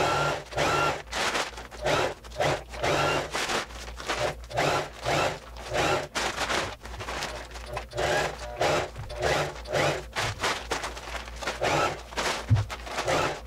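A sewing machine stitches a straight seam along a flour sack shopping bag, running in short repeated bursts with brief pauses between them, close and clear, with no talk over it.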